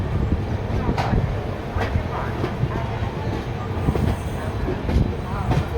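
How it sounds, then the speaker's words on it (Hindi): The Odisha Sampark Kranti Express pulls out of platform 5 at Anand Vihar Terminal, heard from on board as a steady rolling rumble with repeated clicks of wheels over rail joints. "हमारा डिपार्चर ये Anand Vihar terminal railway station के प्लेटफॉर्म नंबर 5 से हो गया है।"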